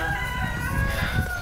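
Chickens on a small Filipino poultry farm, with pullets and hens near the listener and a rooster crowing through a short burst of clucking and farmyard noise.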